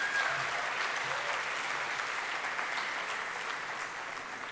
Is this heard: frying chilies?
no